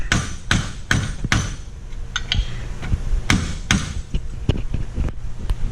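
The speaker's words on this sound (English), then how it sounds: "Take your hammer and knock that pin." A hammer knocks at a pin on a TigerTail tow system: a series of sharp, close metallic strikes at an uneven rhythm, some harder than others, with no talking in between.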